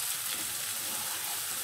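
Eggplant stir-frying in a pan, a brief, even, soft sizzle and crackle close by, with no voices.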